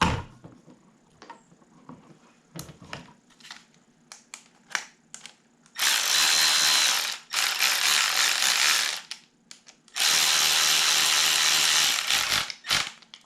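A ratchet fastening the float bowl back onto a push mower carburetor: scattered close clicks and small handling knocks, then two long, loud bursts of rapid continuous ratcheting, each a few seconds long, with no talking.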